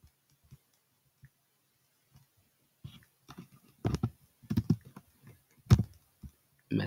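Computer keyboard keys clicked in a few short bursts of typing, close and fairly quiet, with scattered single taps and pauses between.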